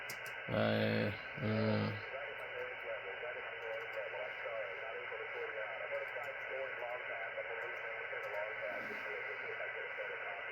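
Steady hiss and buzzing static of interference on a ham radio band fill the whole stretch, with faint warbling tones and a couple of brief louder bursts near the start.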